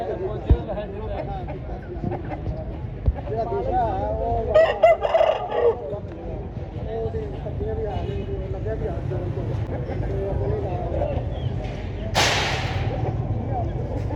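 An Aseel rooster crows nearby amid steady background chatter and clucking, with a sharp bright burst of noise near the end.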